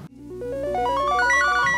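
A mobile phone ringtone plays loud and close, a bright rising run of electronic tones repeating in quick steps, heard alone without talking.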